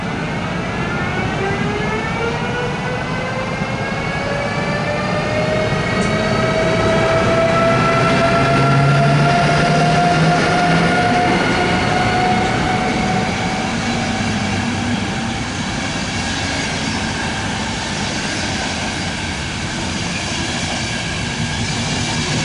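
A Skoda 109E electric locomotive hauls a passenger train from Prague, giving a steady loud rumble with rising and falling whine tones and faint clickety-clack of wheels on rails throughout.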